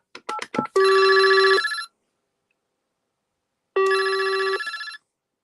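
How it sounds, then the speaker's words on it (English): A desk phone on a PBX system rings with a trilling electronic bell tone in two bursts separated by a pause, loud and close, preceded by a few quick clicks. "It will only ring this one phone."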